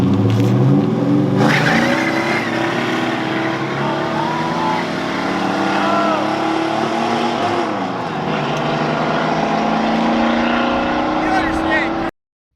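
A powerful Chevrolet Chevelle muscle car engine roars and revs up under hard acceleration, pitch climbing through gears, loud and close throughout.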